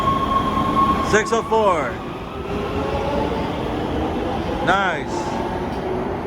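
Los Angeles Metro Red Line subway train pulling out of a station toward North Hollywood, a steady rolling rumble with brief squealing wheel tones that rise and fall, while someone speaks briefly over it.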